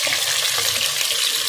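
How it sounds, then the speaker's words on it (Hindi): Meat for kaddu gosht hits hot oil in a pan and fries with a loud, dense, continuous hiss and crackle, close up and unbroken, with no voices. "इसी तेल में गोश्त डाल देते हैं"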